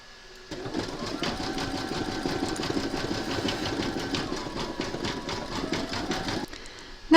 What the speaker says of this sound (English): Pop your hoop into your machine and stitch round number 9